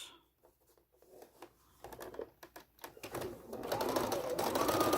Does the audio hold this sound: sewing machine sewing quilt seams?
yes